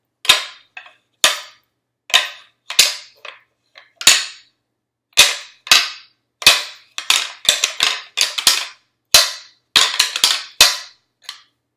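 Deer antlers clash and grind together in sharp, dry rattling bursts that mimic two bucks fighting over a doe, loud and close, with short pauses between irregular clusters of clicks.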